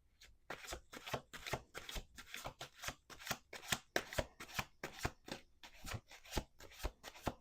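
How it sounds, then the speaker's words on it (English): A deck of tarot cards is shuffled by hand, a quick run of sharp riffling bursts repeating in close, even rhythm, near and clear with no talk. "Last shuffle."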